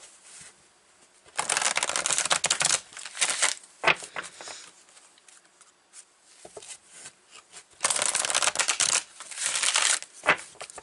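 Power to Surrender oracle cards are shuffled in several bursts of rapid riffling and flapping close by, separated by quieter pauses with a few taps and slides of cards, and no talking.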